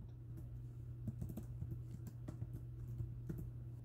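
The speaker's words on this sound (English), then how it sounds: "I will start typing that in the top and then click Enter" Typing on a computer keyboard, a quiet series of irregular clicking keystrokes over a steady low hum, without voices.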